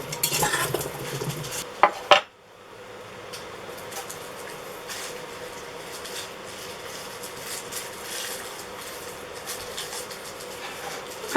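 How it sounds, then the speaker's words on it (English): Sausage and potatoes being stirred in an Instant Pot, with a few sharp utensil clanks against the pot at first, then a steady soft scraping and shuffling of food that continues, close and moderately quiet. "I'm going to stir it around a little bit. Just so it's mixed up some."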